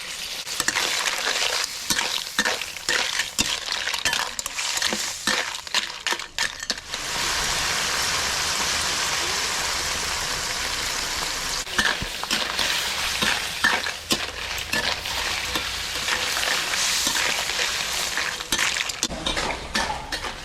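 Shellfish are stir-fried with fish sauce in a hot pan, giving a loud continuous sizzle cut by frequent scraping and clattering stirs and occasional clinks of shells against metal.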